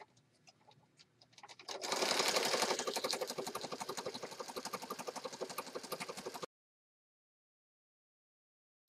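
A sewing machine runs steadily, stitching all the way around the edge of a paper folio pocket. Quiet handling comes first, then a loud, continuous rapid chatter of the needle for about five seconds before it stops abruptly.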